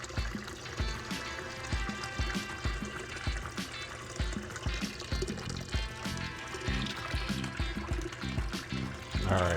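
Water pours and trickles steadily through a gold-prospecting sluice box set up for a flour gold cleanup test, with a soft continuous flow and faint knocks nearby.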